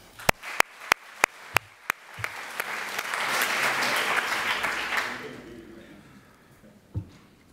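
A few sharp, spaced claps ring out, then a crowd breaks into applause that swells, holds for a few seconds and fades away.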